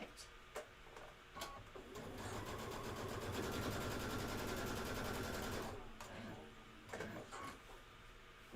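A sewing machine stitching a quilt border with a flange runs in a steady, fast whirring burst for several seconds, framed by a few clicks and handling sounds, with speech before and after.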